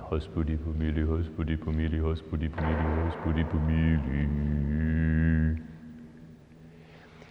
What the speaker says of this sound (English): You can hear a kind of chanting sound here in the background.